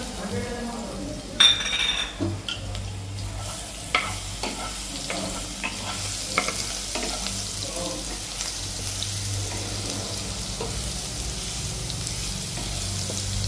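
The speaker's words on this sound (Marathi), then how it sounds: "पहिला टाकायचा लसूण. आता आपण लसूण टाकून घेतला." Garlic fries in a pan with a continuous sizzle, while a spoon clinks and scrapes against the metal in irregular strokes, busier at the start and settling into a steady hiss.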